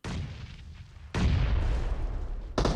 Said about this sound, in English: Nade, big nade there.